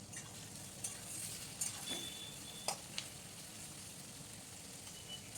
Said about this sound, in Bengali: পেঁয়াজটা একটু ভেজে নরম হওয়া পর্যন্ত পেঁয়াজটাকে ভেজে নেব